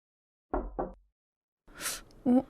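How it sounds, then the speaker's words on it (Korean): Two quick knocks on a door, followed after a pause by a brighter burst and another short thump, close and sharp against silence in a Korean radio drama. "방금 노크 소리 들렸죠?"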